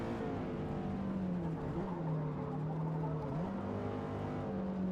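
Race car engine in Forza Motorsport holding a steady loud drone, its pitch sliding down and then stepping up with gear changes, continuous throughout with no talk.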